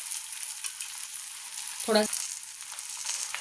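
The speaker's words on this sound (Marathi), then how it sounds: "हे जे होल आहेत त्याच्यामध्ये सुद्धा तेल सोडायचं म्हणजे ते छान खरपूस भाजले जातात" Bhajani thalipeeth sizzles steadily in oil on a pan over low gas, with oil poured into holes in the flatbread; a continuous close frying hiss with a brief louder crackle midway, no talking.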